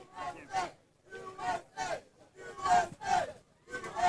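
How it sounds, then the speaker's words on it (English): A motocross crowd at the 1999 Budds Creek 250 GP makes its way to the podium, its voices rising in rhythmic bursts of cheering and shouting roughly every half second, heard at a moderate distance. "you can hear the crowd making their way round to the podium"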